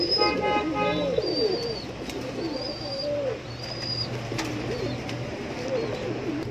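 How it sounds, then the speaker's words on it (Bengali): Homing pigeons coo in low, rolling phrases that repeat steadily through the clip, with a voice speaking over them and a few higher chirps above. "হোমা কবুতর পিওর বাঞ্জা"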